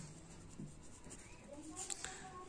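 A pen writes on paper during a maths lesson: soft, close scratching strokes that run steadily and grow slightly busier toward the end, with no speech heard.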